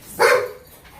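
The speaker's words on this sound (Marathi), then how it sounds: "कुत्रा कसं भोकालाय सापाला." A single dog lets out one short, loud bark or yelp at a young cobra beside the Yellur–Vadgaon road, rising sharply and fading into quiet.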